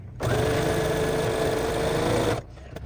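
A sewing machine runs at a steady fast pace for about two seconds, stitching along the folded edge of a fabric key fob. The motor hum is loud and close, with nobody talking.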